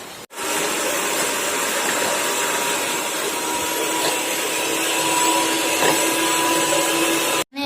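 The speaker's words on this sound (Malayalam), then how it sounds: "ആദ്യം നമ്മൾ മുട്ട ബീറ്റ് ചെയ്തെടുക്കാം" Two eggs beaten with an electric mixer or beater at a children's cooking competition, giving a loud, steady whirring drone that runs for about seven seconds, starting and stopping abruptly.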